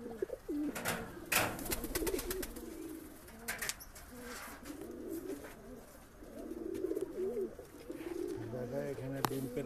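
Pigeons in a pigeon loft coo softly and repeatedly at close range, their low burbling calls overlapping with occasional wing flutters and sharp clicks, while someone speaks intermittently.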